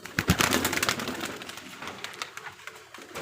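Giribaj highflyer pigeons, a Golden and Teddy cross among them, coo and call at a loft on a pigeon farm, with fluttering and scattered bird sounds close by through the short stretch.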